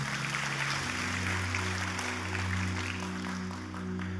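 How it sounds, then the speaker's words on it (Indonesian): Applause from a church congregation clapping for God during a sermon, a dense steady wash of many hands under sustained music or organ tones that continue throughout. "Berikan tepuk tangan buat Tuhan."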